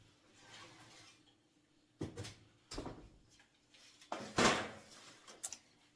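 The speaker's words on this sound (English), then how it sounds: "So we're going to take them out of the oven." Oven door and baking tray handled as baked eggshells come out of the oven: several separate close clanks and knocks spread over a few seconds, loudest toward the end, with no talking.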